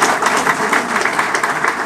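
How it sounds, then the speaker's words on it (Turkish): An audience applauds the president of the hearing-impaired association at a civic gathering, with steady dense clapping throughout and no pauses. "Bir de alkış lütfen İşitme Engelliler."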